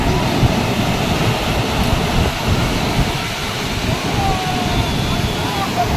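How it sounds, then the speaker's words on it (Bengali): Sea waves breaking on a beach in Goa, a loud continuous roar of surf with wind buffeting the microphone, close and rumbling, with people talking over it. "দেখো ঢেউটা কেমন আসছে"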